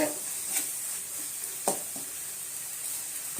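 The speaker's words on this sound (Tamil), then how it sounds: "நல்லா கிளறி விட்டுடலாம் வதங்கட்டும்" Sautéing ingredients for wheat khichdi in a pan: a soft, steady sizzle with a few sharp spoon scrapes and knocks as the mixture is stirred, no speech over it.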